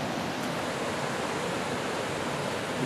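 A small waterfall in a forest gives a steady, even rush of falling water, broadband and constant at close range with no voices.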